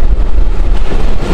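Strong wind roars steadily past a moving train travelling from Mongla to Benapole in Bangladesh, a loud, continuous rushing buffet with a deep low rumble and no voices.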